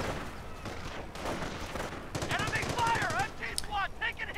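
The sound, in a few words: machine gun and mortar fire in a video game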